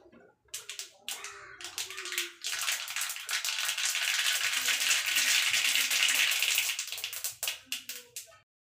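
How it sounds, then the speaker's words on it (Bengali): White mustard seeds hit hot oil and crackle. A short burst of spattering comes first, then a loud, dense sizzle with popping that holds for several seconds before breaking up into scattered pops. "তেলের মধ্যে সর্ষে দিয়ে দিয়েছি"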